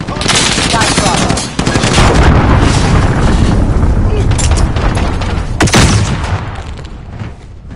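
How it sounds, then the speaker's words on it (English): Cruise missile strike in Call of Duty Modern Warfare, a loud sustained roar of explosions and rapid gunfire that fills the whole stretch, briefly dipping before surging again, with game voices under the din. "Enemy cruise missile incoming."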